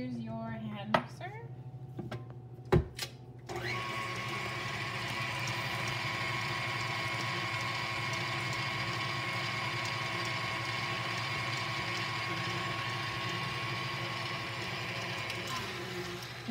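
Stand mixer blending pastry dough with added liquid and buttery chunks, a steady whirring motor hum after a few clinks of utensils and bowl at the start, running continuously at moderate level with no talk.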